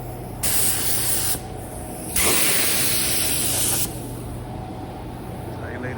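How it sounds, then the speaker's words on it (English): A spray gun lays sealer on a 1984 Chevrolet C10 in two close, loud, steady bursts of hissing spray, each lasting about a second or more, over a low background hum. "So I lay the sealer."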